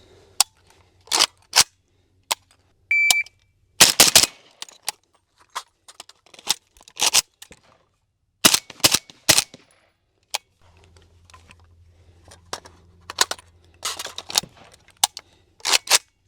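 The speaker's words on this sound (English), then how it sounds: "I'm going to fire 3 rounds of supers first on this left target, mag change, shoot this other target with 3 subs" A .300 Blackout Palmetto State Armory Krink rifle fires outdoors, first three supersonic rounds, then after a pause several more shots with subsonic ammunition, each a sharp, separate crack spaced irregularly among quieter handling clicks.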